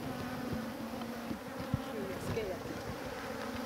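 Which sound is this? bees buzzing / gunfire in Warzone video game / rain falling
bees buzzing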